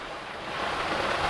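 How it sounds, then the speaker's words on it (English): A small stream at a scenic spot in Japan flows past plants and under a bridge, making a steady, broadband rushing wash that stays even and continuous throughout. "The water is going down, flowing along the plants, and then going down below this bridge."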